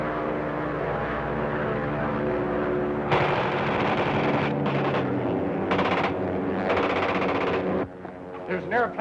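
Rapid bursts of an airplane's machine-gun fire rattle over a droning propeller engine during an attack on a Zeppelin, several sharp volleys in quick succession.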